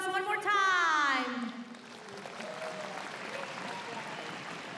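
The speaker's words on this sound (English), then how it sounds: "Let's give a round of applause one more time." At a robot contest final match between teams from Japan and Hong Kong, a loud voice rings out briefly before a crowd's clapping takes over, a softer, steady patter of hands spreading through the arena.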